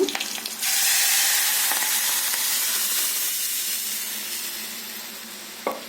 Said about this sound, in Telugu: ఇప్పుడు మనం ముందుగా మెదిపి పెట్టుకున్న పప్పుని వేసుకున్నాము